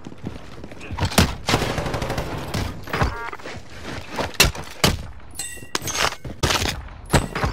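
Incoming gunfire in a combat video game: loud, sharp gunshots crack in irregular bursts and single reports, some rapid like automatic fire, with metallic pings and impacts between them.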